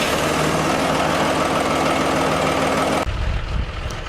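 A tractor engine runs at a loud, steady idle with a rough low rumble close by; near the end the tone drops abruptly into a lower, heavier throb as the engine settles. No one speaks.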